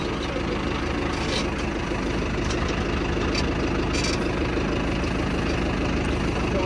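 A Mahindra Arjun Novo tractor engine runs steadily throughout, a continuous, close, droning idle with faint background voices.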